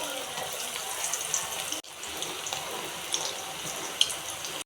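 Onion pakoda fries in hot oil, a continuous bubbling sizzle with small crackling pops and a brief break before it carries on.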